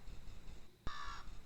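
A single short crow caw rings out clearly and loudly after a quiet stretch, lasting about a third of a second before fading back to faint background.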